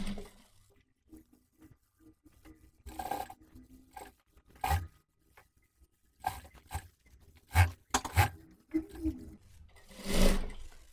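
A sewing machine stitches a chemise dress with a ruffle in short, intermittent runs separated by quiet pauses and small handling noises, heard close up with no talking.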